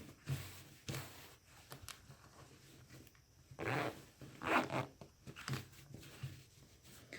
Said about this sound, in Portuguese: vou fechar esse zíper aqui pra gente ver como ele ficou